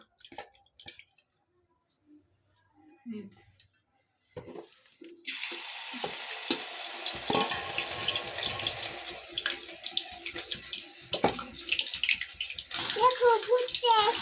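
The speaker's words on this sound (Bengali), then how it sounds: "তেল গরম হয়ে গেছে বন্ধুরা, এক একটা কাঠি নিয়ে আমি এর মধ্যে চুবিয়ে তেলের মধ্যে ছেড়ে দেবো।" Chicken kathi kebab sticks, dipped in batter, are dropped one by one into hot oil for deep-frying. After a few soft clatters, a loud, steady sizzle bursts in and keeps bubbling close up with small crackles.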